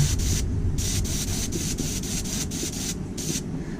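Short hissing bursts from a spray gun or airbrush painting a swimbait fishing lure repeat in quick pulses over a constant low motor hum, close by.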